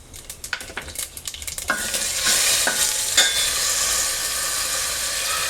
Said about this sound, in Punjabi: ਆਪਾਂ ਤੇਲ ਰੱਖ ਲਿਆ ਇੱਕ ਕੜਸੀ ਹੁਣ ਆਪਾਂ ਇਹਦੇ ਚ ਪਾ ਦਾਂਗੇ ਇੱਕ ਚਮਚਾ ਜੀਰੇ ਦਾ